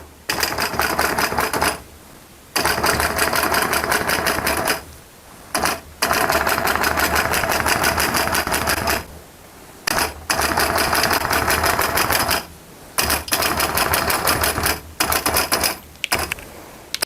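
Sewing machine stitching long, tight basting stitches during quilting in a studio, running in steady loud bursts of rapid needle clatter separated by short pauses, alone without talk.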